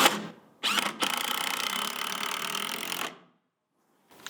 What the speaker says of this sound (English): Now I'm going to be using some 3-inch decking screws to get this installed.